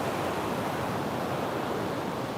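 Steady ocean waves and surf, a continuous loud broadband wash with no distinct breaks, heard alone without voices.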